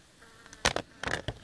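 Honeybees buzz close by in a hive in short, bright bursts, a dense, whirring hum swelling twice over a faint background drone.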